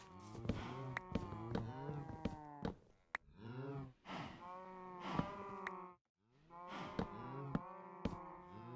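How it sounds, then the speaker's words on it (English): Cows in the video game Minecraft moo repeatedly, with overlapping calls one after another, close and fairly loud, plus a few brief gaps. "Shut up, cows."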